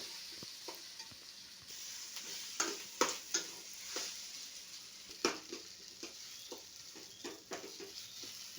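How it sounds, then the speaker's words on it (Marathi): Mashed boiled potato with coriander being sautéed in a pan for a bread sandwich filling: a soft, low sizzle with irregular scraping and tapping strokes of a spoon, close but quiet, no voices. "याच्यामध्ये उकडलेला बटाटा मॅश केलेला टाकायचा आहे आणि परतवून घ्यायचा आहे"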